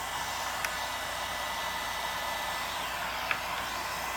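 A hair dryer blows steadily over freshly applied textured paint, a constant close whooshing roar with no breaks, joined by two faint clicks.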